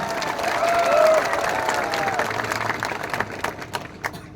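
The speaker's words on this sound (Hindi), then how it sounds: "आप अपने आप को भी थोड़ा सा ताली देकर अपने आप को भी क्रेडिट लीजिए" Crowd at a political rally in Sabroom claps loudly and cheers, a full burst of applause that swells early, then thins into scattered individual claps toward the end.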